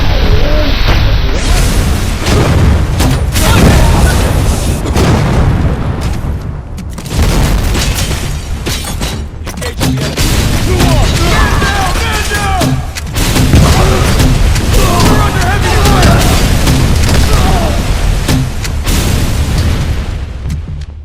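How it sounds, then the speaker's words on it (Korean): Loud repeated booms and blasts from grenade launcher fire in the video game RoboCop: Rogue City, dense and continuous with heavy low-end impacts and layered game effects throughout. "아니면 정말 강력하고 폭발적인 수류탄 발사기도 있습니다"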